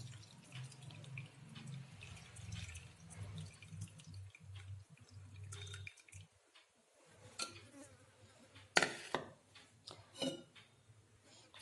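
Red poha flakes are rinsed in a kitchen, with quiet running and sloshing water that turns into louder splashes and draining near the end.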